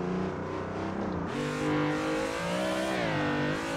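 A car engine revs hard and steadily while drifting in the Assetto Corsa racing game on Xbox One, a loud, continuous, harmonic drone whose pitch rises and falls with throttle, no voices.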